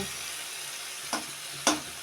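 Fried potatoes being turned in a pan over a steady low sizzle, with two distinct scraping strokes of the spatula close by and no voices.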